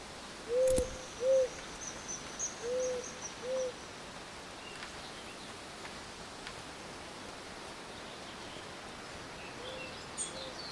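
An owl in the game Eastshade hoots several times in short paired calls, soft and somewhat distant over a quiet night ambience with faint insect-like hiss, then falls silent.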